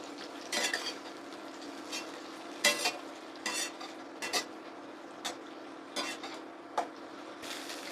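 Flat beans frying in a pan are stirred with a utensil, giving about a dozen sharp scrapes and clinks against the pan over a faint steady sizzle and a low hum, close and unaccompanied by speech.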